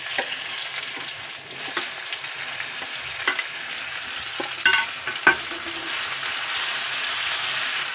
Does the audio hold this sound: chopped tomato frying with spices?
yes